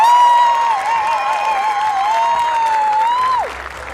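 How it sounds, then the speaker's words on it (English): A crowd at a bouldering finals competition applauds and cheers for the winners, loud sustained clapping with a high whoop or whistle riding over it before it fades near the end. "can we get the biggest round of applause and cheer for our Fanatics winners for Gravity Bowl 2026?"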